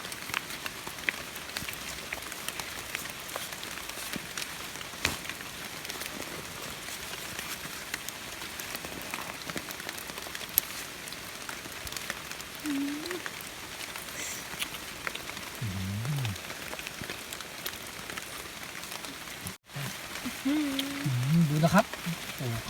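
Steady rain patters on soil at night during a mushroom hunt, a constant fine hiss with scattered drops, and a few faint voices or animal calls surface near the end.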